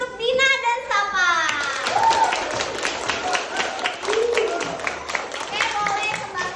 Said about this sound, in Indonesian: tepuk tangan untuk Dina dan Sapa